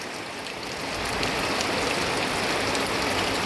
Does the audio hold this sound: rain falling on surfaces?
yes